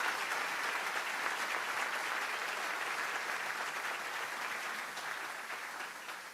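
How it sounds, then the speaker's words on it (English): Steady, dense applause from a large audience at a university basketball coach introduction, greeting the Board of Trustees; the sustained clapping sounds somewhat distant and fades a little at the end. "Give them a round of applause."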